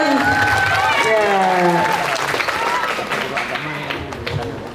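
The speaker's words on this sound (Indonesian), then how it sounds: "Tepuk tangan dulu dong untuk Pak Ilman." An audience at an Islamic talk session gives a round of applause for the guest speaker, steady clapping throughout while a voice talks over it in the first half.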